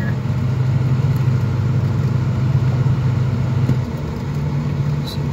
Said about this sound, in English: This one shifted into second gear.